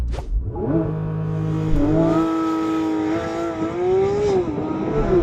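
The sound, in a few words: Porsche 911 GT3 launch acceleration run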